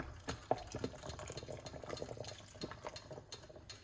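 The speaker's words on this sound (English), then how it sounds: "I'm gonna put some hot water in it." Hot water is poured and splashes into a cup, a soft uneven trickle with small clinks, fairly quiet and close.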